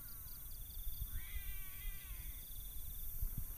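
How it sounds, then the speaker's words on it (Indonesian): A faint, drawn-out cat meow rises and falls in the distance by a lake at night, with a steady high electronic whine and low rumble in the background. "kayak ada suara kucing di sebelah sana teman-teman"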